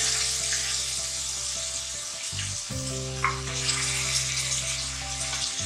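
Meat sizzles and fries in a pan with garlic paste and turmeric, a steady soft crackle with a few faint clinks, alone without talk.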